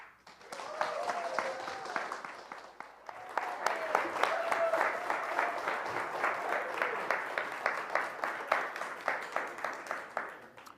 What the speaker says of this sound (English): Please join me in giving a very enthusiastic round of applause for Dwight Zenkin